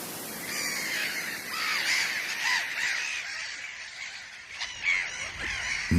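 A colony of Mediterranean gulls on a breeding island in a salt lake, calling steadily with many overlapping harsh cries at moderate loudness and no talk.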